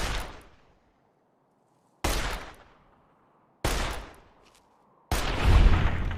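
Gunfire in the video game Fallout: New Vegas: three loud, sharp single shots about two seconds apart, each ringing out and decaying, followed by a heavier burst with a booming low rumble.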